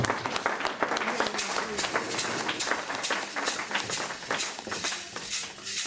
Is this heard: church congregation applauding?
yes